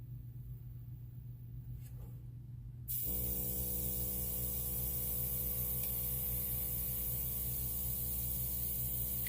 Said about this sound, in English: I'm pretty much straight up and down with my airbrush